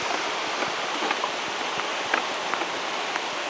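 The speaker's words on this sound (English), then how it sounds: "now it's raining. We're walking into a storm." Steady rain falling outdoors along a hiking trail at the Passadiços do Paiva as a storm arrives, a dense even hiss with scattered louder drops pattering close by, no voices.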